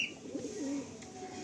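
Pigeons, including Malwai breeds held for sale, coo around the loft in a low, rolling burble, steady and close, with no talk.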